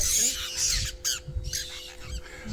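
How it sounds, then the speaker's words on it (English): Black birds squawk near a bush campsite on the Hawker to Warren Gorge route, with several harsh, scratchy calls in quick succession and low background noise. "Invaded by these black birds."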